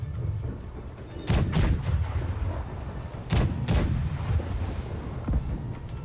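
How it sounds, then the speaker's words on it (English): Heavy ship cannon blasts from the game Blackwake boom in pairs, a couple of seconds apart, over a steady low rumble of wind and sea. "Keep shooting left side cannons."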